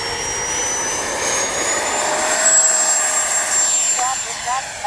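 A Freewing 90mm F-15C Gulf Spirit RC jet takes off with its ducted-fan engines giving a loud, continuous high whine and roar whose pitch slowly climbs as it accelerates away.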